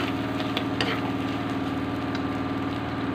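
Garlic sautéing in a pan for an eggplant dish gives off a steady close sizzle and crackle, with a few light clicks of stirring and no talk.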